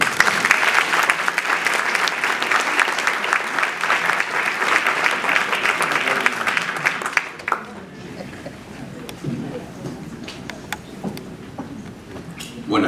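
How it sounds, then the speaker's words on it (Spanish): Loud applause from an academic audience at a recognition ceremony, dense sustained clapping that carries for about seven seconds before dying away into scattered claps and low room murmur. "Fuertes aplausos."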